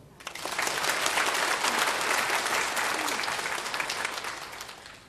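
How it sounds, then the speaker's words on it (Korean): Church congregation bursting into applause during a sermon, a dense sustained clapping that starts abruptly and holds steady for about five seconds, close and full. "박수"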